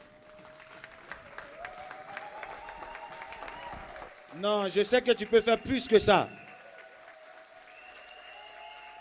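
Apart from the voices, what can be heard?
applause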